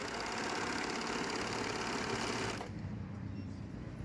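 A Sunspecial SS320 overlock sewing machine runs fast and steady while stitching fabric, with a dense, close mechanical whir that drops to a softer hum as it slows near the end.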